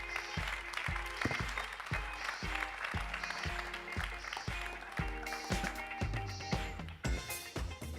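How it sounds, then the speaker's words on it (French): An audience at the FailCon Grenoble 2016 conference applauds to welcome two speakers to the stage, with dense, sustained clapping and some rhythmic unison beats, loud and continuous throughout. "je vous invite à applaudir tout de suite Guillaume Mullier et Philippe Joly"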